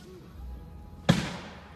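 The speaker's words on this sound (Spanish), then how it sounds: "se escucha un tercer disparo" A single sharp, loud gunshot cracks out after a second of low rumbling background, followed by a brief decaying echo.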